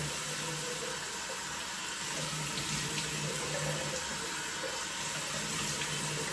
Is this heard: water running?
yes